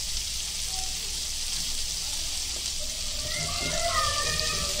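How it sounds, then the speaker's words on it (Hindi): Onion, capsicum, cabbage and tomato fry in a pan over a low gas flame, making a steady, even sizzling hiss like light rain throughout, with a voice faintly in the background. "ज्यादा पकाने का नहीं, हाँ फ्राई करने का है"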